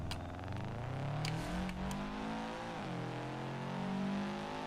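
A car in the BeamNG driving game runs with a steady engine drone, pitch rising and dipping as it accelerates and eases off, continuous and close with no talking.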